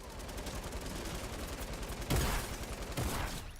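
A combat shotgun fires in the video game Fortnite amid a continuous din of gunfire, with two sharp, louder blasts near the end.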